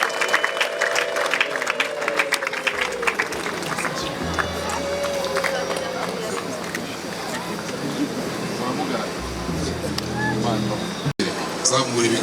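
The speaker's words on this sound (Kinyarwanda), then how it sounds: "reka dukoma amashyi menshi" A crowd at a Rwandan family gathering claps long and heavily, a dense, continuous patter of many hands with voices and ululation woven through, loud and close, holding steady for the whole stretch.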